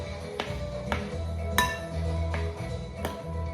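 A spoon clinks against a bowl in a handful of sharp, evenly spaced taps while peanut butter cookie batter is stirred, with a steady low hum running underneath.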